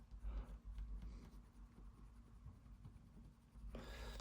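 Soft, steady scratchy strokes of a Spectrum Noir metallic colouring pencil rubbing across card, close and quiet, in a continuous back-and-forth rhythm.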